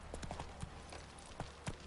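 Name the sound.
horse hooves, riding Roach in The Witcher 3 video game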